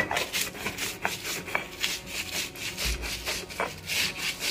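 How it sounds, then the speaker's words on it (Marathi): Green chillies and salt ground on a flat stone grinding slab, a close rhythmic rough scraping as the stone rolls back and forth in repeated strokes, steady and fairly loud. "तर आपण आता पाट्यावर वाटून घेऊ आणि त्याच्यावर आपल्याला थोडंसं मीठ घालायचं बघा, मिरच्यावरती असं मीठ टाकून घ्यायचं चवीनुसार आणि वाटायचं याला"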